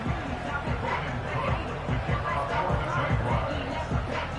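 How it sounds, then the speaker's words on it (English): A large stadium crowd at an English-hosted American football game involving the Jaguars, likely in a video game, gives off a steady, dense roar of babble, loud and continuous throughout. "Big crowd on hand. They love American football."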